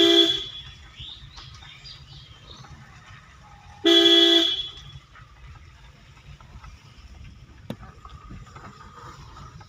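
A car horn gives two short, loud honks about four seconds apart as the car drives onto a bridge, with a low steady engine rumble underneath.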